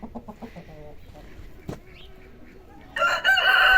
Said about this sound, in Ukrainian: Під горіхом курочки.